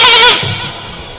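A human voice imitates a goat bleating in one loud, wavering, nasal cry that fades into a quieter low murmur.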